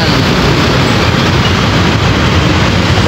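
A new MRT train at a station in Manila, near Pasay in Baclaran, gives off a loud, close, continuous roar of rolling rail noise. It holds steady without a break for the whole span, with no talk.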